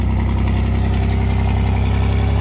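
A Pontiac Fiero engine idles steadily after sitting unused for a long time, a loud, close, even rumble with a fast regular pulse and no voices.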